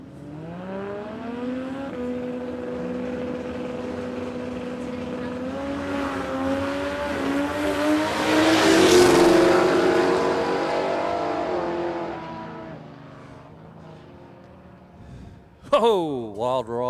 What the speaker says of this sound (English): pass of the day in this gorgeous Holden HQ Kingswood sedan